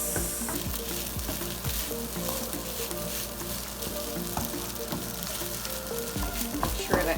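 Chaofan fried rice with egg stir-frying in a pan, a dense continuous sizzle with rhythmic scraping and tossing strokes, close and steady throughout.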